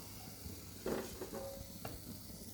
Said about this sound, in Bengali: একটু পর পর নেড়ে চেড়ে দিব শাকটা সিদ্ধ হওয়া পর্যন্ত এরকমই করব